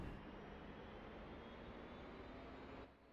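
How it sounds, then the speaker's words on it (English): Helicopter engines in the DCS flight simulator spool up as a steady, broad, loud whine and roar that holds evenly, then drops off abruptly near the end, with no voices. "You should hear the engines increasing"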